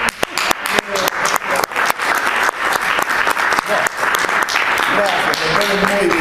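An audience breaks into applause after a lecture, a dense, sustained burst of many hands clapping with some sharp individual claps, loud and close, with a few voices mixed in.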